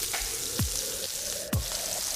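Onion goes into a hot pan where pork chops have been seared, a continuous close sizzle broken by two sharp, sliding clatters of utensils against the pan.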